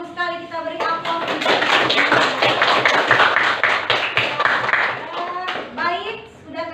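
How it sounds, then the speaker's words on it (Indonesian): Children clapping in a classroom, a continuous patter of many small hands, with a teacher's voice speaking at the start and end around it. "Bagus sekali, kita beri aplaus."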